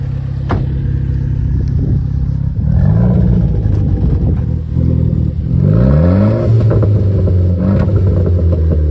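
Renault Clio 4 RS Stage 1 with a stainless steel exhaust, engine revving loudly up from idle in repeated rising sweeps, with clattering pops between them, close and alone.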